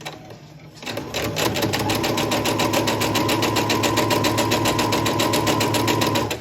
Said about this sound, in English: So now I'm just going to sew along the edge, and I'm still using my 1/4 inch foot.